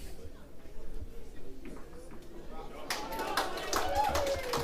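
A crowd at a lawn bowls test match claps and cheers, the applause building in the second half over a steady outdoor hubbub, while a commentator keeps talking throughout.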